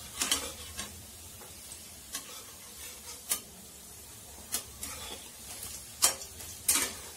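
Kadi pakoras frying in a pan, giving a quiet, steady sizzle broken by scattered clicks and scrapes of stirring and turning, with no talking.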